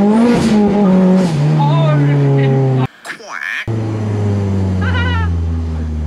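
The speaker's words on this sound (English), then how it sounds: "I'm driving a legit race car on a little island." Ford Fiesta MK3 track car with a 431 bhp engine, droning and shifting pitch while driving on a small island, loud and close inside the cabin, a short cutout midway, with someone talking over it.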